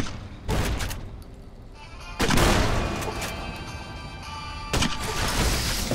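Incendiary weapon fire in the Fallout New Vegas video game, with three heavy, roaring bursts spaced a couple of seconds apart over a sustained crackling, rumbling background.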